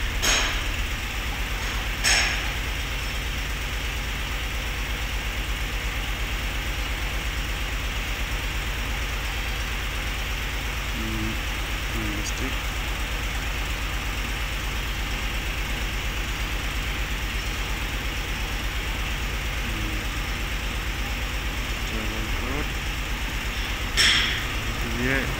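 A Nissan Patrol engine idles steadily with a low, even rumble during a cylinder misfire check, with a few brief clicks and faint voices nearby.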